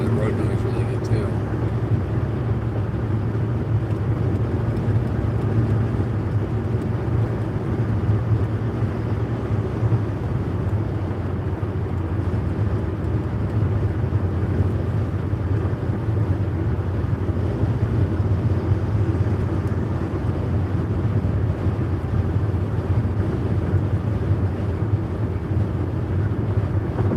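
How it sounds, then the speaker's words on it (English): Steady, continuous road noise from a moving car fills the whole stretch as a constant broadband rumble, loud and unbroken, with some wind buffeting mixed in. "I think you probably get the road noise really good too."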